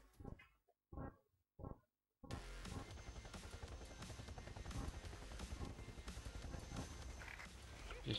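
A helicopter in the SSX snowboarding video game starts after a few short broken bursts, settling into a steady, loud rotor drone with rhythmic chopping and rumble that continues to the end.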